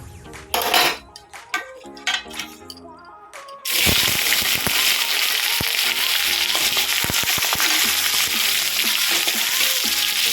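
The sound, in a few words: frying mung dal in oil in a kadai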